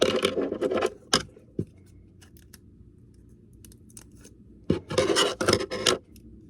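Scissors snipping through tape during handmade pin making, a few sharp close clicks and cuts separated by quiet gaps, with a cluster of quick crinkly snips near the end.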